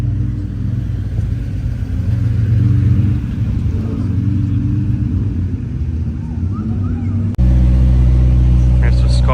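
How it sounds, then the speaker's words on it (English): A Pagani Zonda C12 Roadster supercar engine rumbles loudly nearby in a deep, steady drone, with a sudden shift to a heavier low roar near the end; people talk over it. "Pagani Zonda C12 Roadster."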